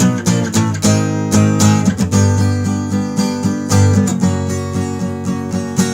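An acoustic guitar strums chords from a tab in a steady rhythmic pattern, loud and close, each strum ringing into the next with no voice over it.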